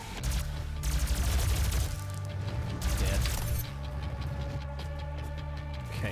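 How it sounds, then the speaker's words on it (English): A charging weapon fires in the video game DOOM: rapid bursts of gunfire and mechanical clatter dominate the first half, then ease into a lower droning hum with sustained tones. "So the more I shoot, the more it charges up, the more I can... blow the hell out of everything"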